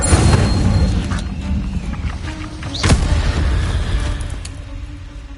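An Incendio fire spell in Hogwarts Legacy gives a rushing, roaring burst that settles into a steady rumble, with a second sharp whoosh partway through before the noise tapers off.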